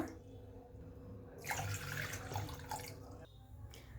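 Water poured into a pot from a tap for boiling while making Kerala idiyappam, a faint trickle that swells into a steadier splashing gush for about two seconds, then cuts off against quiet kitchen background.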